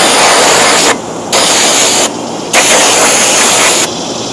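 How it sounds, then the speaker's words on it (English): An aerosol can of brake cleaner degreaser fires loud, harsh hissing bursts in a stiff spray, with three long blasts separated by short pauses, close up and with no voices. "Nice stiff spray of your brake cleaner, degreaser, whatever you choose."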